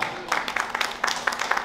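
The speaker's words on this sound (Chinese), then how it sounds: "掌声热烈一点" Applause and clapping from an audience at a Chinese-American community summer camp opening ceremony in New York, a steady patter of many hands swelling in repeated bursts, heard on its own without talk.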